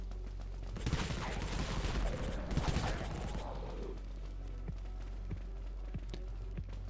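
Rapid bursts of gunfire from a weapon in the game Dead Frontier, dense and loud during the first few seconds, then giving way to scattered, fainter shots and background game sounds.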